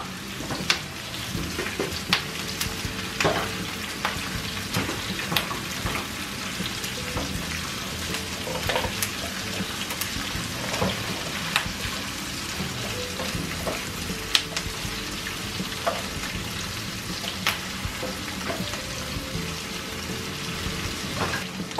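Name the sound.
onion, chiles, garlic and herbs frying in a pot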